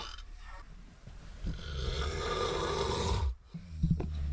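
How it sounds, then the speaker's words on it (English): A man snores heavily beside a passenger on a long-haul Chinese sleeper bus, loud, rough rasping breaths drawn out over several seconds, then a brief pause and a snorting restart. "Every single person is snoring."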